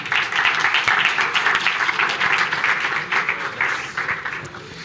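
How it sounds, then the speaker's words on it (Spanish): A seated audience at a lecture on precision medicine and cancer treatment gives a strong round of applause, dense steady clapping that gradually thins and fades near the end. "les vamos a pedir un fuerte aplauso"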